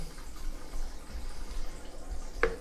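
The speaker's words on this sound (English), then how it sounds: "And now I can hear the water running." Water drains freely down a just-unblocked bathroom sink, a faint continuous trickle and gurgle with one brief brighter splash near the end.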